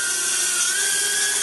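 A GoolRC mini drone's propellers whirring as it comes in to land, a loud, steady high-pitched whine held close throughout with no voices.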